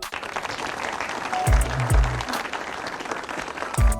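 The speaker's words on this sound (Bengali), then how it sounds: "সবাই হাততালি দেন" A short burst of applause with a few louder thuds mixed in, moderately loud and brief, with no talk.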